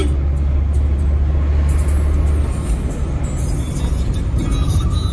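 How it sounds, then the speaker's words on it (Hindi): Car engine rumbles loudly and steadily while driving along a road, with low droning road noise throughout and no talk. "भाई चला रहे गाड़ी"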